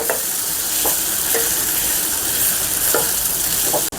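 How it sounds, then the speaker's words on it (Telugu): Onion and mint paste frying in a pan with cooked onion and tomato for half egg curry, loud continuous sizzle and hiss with a few spatula scrapes, no talk. "ముందుగా చేసి పెట్టుకున్న ఉల్లిపాయ పుదీనా పేస్ట్ని వేసుకోవాలి. ఒకసారి బాగా కలుపుకోవాలి."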